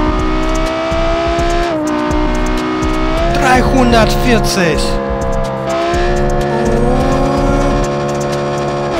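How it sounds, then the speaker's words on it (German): An Audi R8 V10 Plus sports car engine roars loudly at high revs while accelerating, pitch climbing through gear changes with a brief squeal, as a voice speaks over it. "Das ist ein Audi R8 V10 Plus Turbo. Hör dir diesen Sound an."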